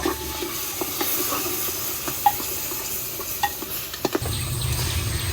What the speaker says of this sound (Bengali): আমি এখন এগুলো ভালোভাবে মিশিয়ে নেব